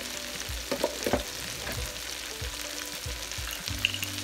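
Cumin seeds sizzle and crackle in hot oil while hilsa fish korma is cooked, with a steady frying hiss broken by repeated soft stirring scrapes, close and continuous and with no talk.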